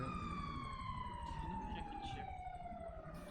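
A police siren in GTA 5 wails steadily with a slowly falling tone over a constant engine rumble, loud and continuous throughout.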